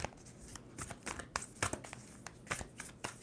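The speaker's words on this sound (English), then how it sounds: "2 more shuffles." A deck of tarot cards is shuffled by hand in a series of quick riffling bursts, close and crisp, with short pauses between shuffles and no talk.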